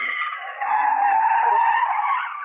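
A car drives off with a sharp tyre skid and a rising, revving engine, loud and close for about two seconds, with no talk over it.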